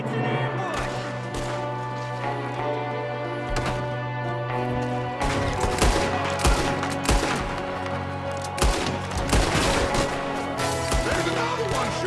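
Gunfire in an ambush in the video game Red Dead Redemption 2, with repeated sharp shots under steady music, the pace of the shots picking up in the second half.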